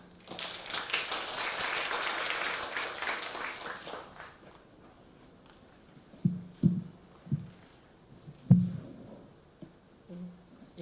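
A forum audience on government regulatory reform claps loudly for a researcher from the Korea Institute of Public Administration. The dense applause lasts about four seconds, then gives way to scattered footsteps and a few thumps.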